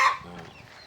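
A bantam hen on a small farm gives a short burst of clucking that tapers off quickly, close by and fairly clear with no talk.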